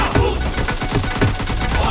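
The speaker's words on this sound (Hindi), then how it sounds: "हम इधर गोली चला रहे हैं और ये पीकॉक जी बग्गी पे गोली मार रहे हैं।" Rapid automatic gunfire rattles in fast, continuous bursts in the mobile shooter PUBG Mobile Lite, loud and close.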